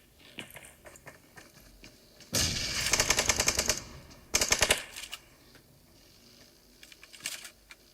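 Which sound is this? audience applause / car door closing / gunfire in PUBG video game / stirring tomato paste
gunfire in PUBG video game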